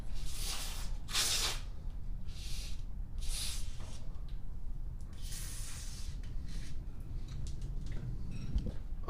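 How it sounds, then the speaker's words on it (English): Repeated hissing bursts from an aerosol lubricant spray can aimed at overhead garage door hinges, close by, in short irregular spurts over a steady background rumble. "We're going to go ahead and spray that inside the hinge and around any moving parts on your door."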